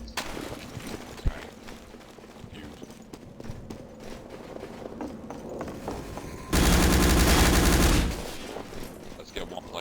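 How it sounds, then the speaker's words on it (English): Thompson submachine gun fire in the World War II shooter Day of Defeat: Source comes as one sustained, loud burst of rapid automatic shots lasting about a second and a half, amid game noise and faint hoofbeat-like clatter. "Next up is the Allies Assault class with the Thompson."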